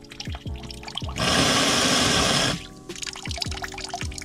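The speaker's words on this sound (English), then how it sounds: "the coolant is now drained very quickly all of a sudden" Engine coolant drains from a VR5 engine in one loud, rushing gush of liquid lasting just over a second, with quieter workshop sounds before and after.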